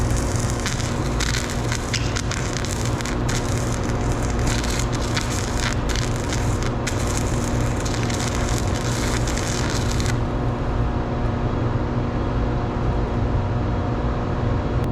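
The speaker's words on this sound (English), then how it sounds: "So that can weld unistrut no problem." An IGBT welder running on 120 volts lays a bead on unistrut steel channel, giving a continuous harsh crackle and sizzle that holds steady for about ten seconds before the arc stops and a steady hum remains.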